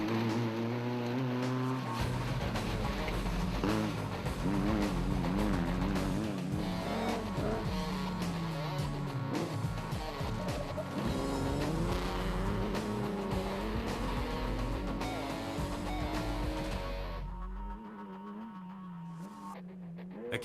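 A Dragonfly rally race car in a KZN regional championship event, the 2013 Toyota 1000, revs hard through the gears with a wavering, rising-and-falling engine note for most of the stretch before dropping away to quieter distant noise near the end.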